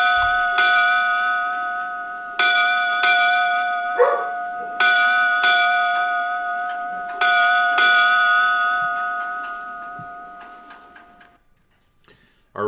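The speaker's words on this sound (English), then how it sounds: "when we pay respects on the Navy or nautical side of everything, it's 8 bells" A ship's bell rings eight bells, struck in four close pairs with long ringing decay between each pair, loud and clear with no talking over it.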